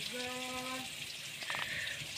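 French fries frying in hot oil make a steady, close sizzling hiss throughout, with a brief voice speaking over it at the start.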